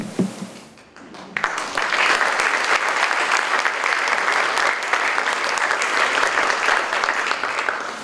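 An audience at a literary evening at Karamu House in Cleveland bursts into sustained applause after a brief quiet moment, loud and steady clapping filling the room until the end.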